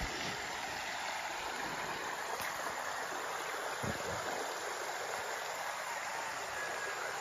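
A river current rushes steadily past a riverside camp in Tanay, Rizal, a constant broadband wash of flowing water with no pauses, faint and even throughout.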